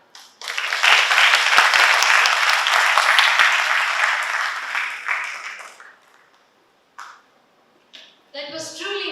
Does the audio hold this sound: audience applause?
yes